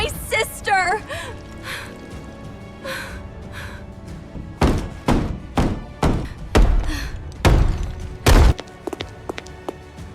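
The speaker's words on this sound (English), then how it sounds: "You must stop banging on this glass immediately." Repeated heavy thuds and bangs on glass doors come in an irregular series, loud and close, with a voice heard briefly at the start and some shorter taps between the bangs.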